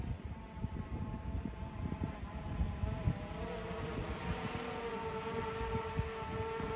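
A DJI Mini 3 Pro drone flying back toward its launch point gives a faint, steady propeller whine with a rising tonal hum. Low rumbling wind noise runs underneath.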